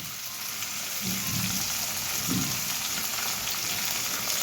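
Tomato paste mixed with chili powder frying in a pan, giving a continuous soft sizzle and bubbling like light rain, with a couple of low stirring scrapes; no one speaks.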